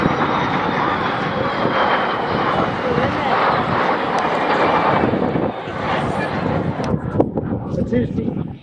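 De Havilland Vampire jets fly past at the Wales National Airshow 2017, a loud, sustained jet roar that swells and then fades toward the end, with a commentator talking over it.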